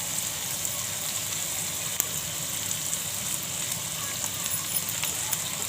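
Green chillies sizzle in hot oil in a pan while a vegetable dish is cooked, a steady broadband frying hiss with a faint click near the middle, continuous and fairly close, with no talking.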